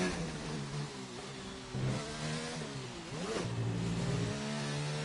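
A race car engine in a racing game accelerates hard down a long straightaway at over 200 mph, a steady loud high-pitched roar with rising pitch sweeps and a brief dip near the middle, with no voices.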